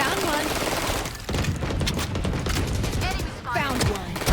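Rapid bursts of automatic gunfire from a shooter video game fill the clip, dense and continuous with brief gaps, loud throughout.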